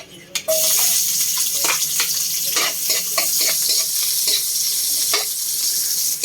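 Onions sautéing in a pan for chicken tinola with ginger, a loud continuous sizzle after a sudden start, with intermittent scraping stir clicks close by and faint background voices.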